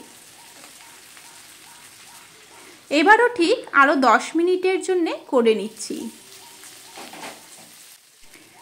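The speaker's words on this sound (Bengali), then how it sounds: "অপর পৃষ্ঠেও আরও 10 মিনিটের জন্য ভেজে নেব।" Shrimp paturi wrapped in leaves fries in a pan with a steady, soft sizzle that runs throughout, partly covered by a person talking in the middle.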